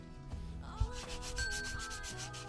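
Hand sanding of dried filler with 120-grit sandpaper on a boat's teak: close, steady rasping strokes of paper rubbing the surface, repeated back and forth with a few light knocks, no voices.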